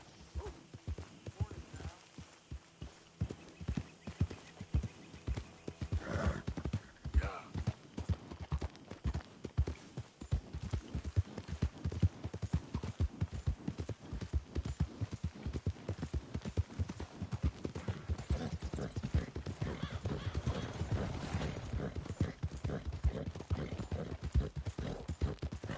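Horse hooves clip-clop steadily in Red Dead Redemption 2, a continuous close rhythmic trot of hoofbeats that persists throughout, with voices speaking intermittently over it.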